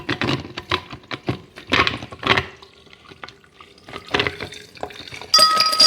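A boiled drink mixture is poured into a jar filled with ice cubes, producing irregular splashing and clinking of ice against glass in uneven bursts, ending with a brief bright chime.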